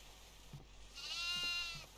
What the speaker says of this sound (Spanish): Ah, mira, está saliendo una cabra.